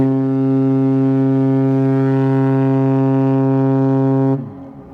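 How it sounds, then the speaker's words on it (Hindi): A deep, loud ship horn on a passenger ship approaching Port Blair blasts one long sustained tone for about four seconds, then cuts off abruptly. "इनका ना हॉर्न बहुत बढ़िया है"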